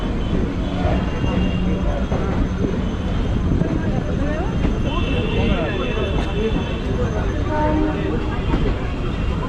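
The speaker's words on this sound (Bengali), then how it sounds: "আমাদের train Sealdah Magrahat local Sealdah station থেকে ছাড়লো" A Sealdah-Magrahat local train pulling out of Sealdah station, a loud, steady rumble of wheels and carriages with faint squeals and tonal whines layered over the roar.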